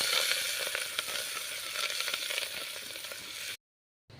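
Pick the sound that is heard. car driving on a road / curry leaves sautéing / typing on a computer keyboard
curry leaves sautéing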